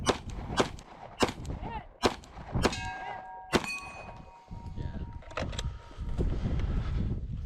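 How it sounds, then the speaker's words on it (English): Pistol shots fired on a run-and-gun stage in the West Texas high desert, sharp loud reports at irregular intervals with ringing steel-target clangs, gaps where the gun fails to feed, and background wind noise. "Into this stage right here with pistol, you'll notice a couple of failure to feeds."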